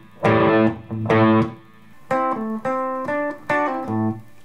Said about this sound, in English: And we have distortion, it sounds pretty cool.